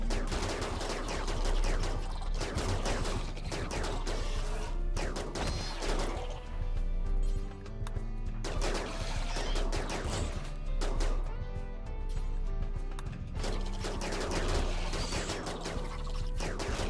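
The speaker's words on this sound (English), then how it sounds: "I see a lot of people shooting the back insects rather than focusing fire on the front here." Gunfire in the video game RimWorld as colonists shoot at insects, dense rapid volleys of shots and crashing impacts that continue almost without a break, loud and busy throughout, with no voices.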